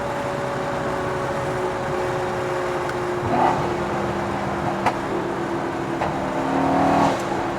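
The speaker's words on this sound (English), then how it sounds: "Car makes all the right noises." A Honda Civic Type R FD2 engine hums and pulls under acceleration from inside the cabin, with a few sharp pops and crackles breaking through the steady drone.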